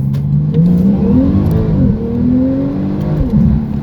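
A Porsche Turbo S launches in first gear under launch control, its engine note climbing loud and close through a rising rev sweep, dipping briefly and rising again, with no one talking.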